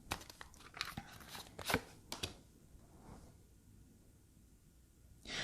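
Tarot cards riffle and snap in a quick burst of crisp shuffling, then a quiet pause before another soft rustle.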